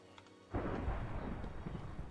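Thunder from a lightning storm in the video game Minecraft: a sudden loud crack half a second in that rolls into a sustained, heavy rumble for the rest of the moment, with no talking.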